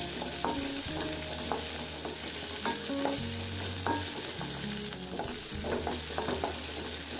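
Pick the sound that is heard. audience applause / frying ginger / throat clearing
frying ginger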